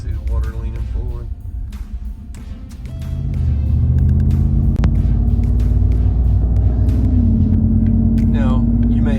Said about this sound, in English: we're riding down the road.